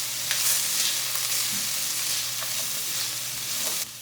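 Green beans fry in hot oil with a steady, loud sizzling hiss and occasional crackles and stirring clinks, continuous and close with no talk.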